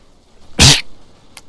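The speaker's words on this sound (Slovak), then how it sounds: "som si kýchol, neviem prečo, ale som si kýchol" A man sneezes once, loud and close, a sharp burst followed by a faint short sound while he plays a video game.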